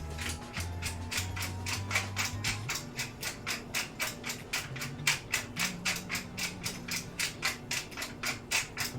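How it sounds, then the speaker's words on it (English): A hand-cranked pepper mill grinds peppercorns in a steady run of rhythmic ratcheting crunches, close and clear, with a low tone underneath and no talking. "My wife thinks me grinding pepper is a workout."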